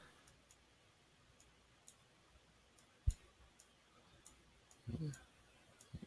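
A computer mouse clicks repeatedly during photo retouching, with soft, close, irregular ticks spread through the stretch and a brief louder click, over quiet room tone.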